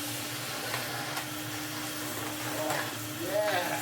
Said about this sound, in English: NV250. Let's vacuum.